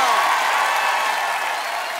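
Audience applause for a singer at a televised 1990s-themed show, a dense steady wash of clapping that stays loud and even throughout, with possible faint voices underneath.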